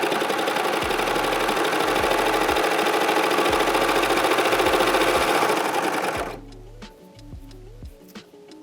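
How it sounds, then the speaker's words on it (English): A serger sews and overlocks the edge of a medium-weight textured fabric, a loud rapid mechanical whir with rhythmic stitching that runs steadily for about six seconds, then stops, leaving faint clicks and handling sounds. "So it sews it and it serges it to finish off the edge all at the same time."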